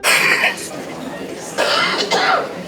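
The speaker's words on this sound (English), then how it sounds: "there was this really annoying woman who just kept coughing right into my microphone on my camera" A woman coughs right into a camera microphone at a crowded town hall meeting about Six Flags America, two harsh, close bursts with a quieter stretch of room murmur between them.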